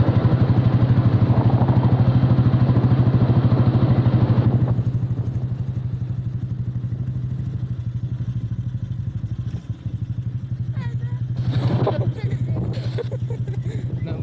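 An old Royal Enfield Bullet motorcycle runs under way, its steady, close, loud single-cylinder thump pulsing throughout, with a rider talking over it and the engine note easing off partway through.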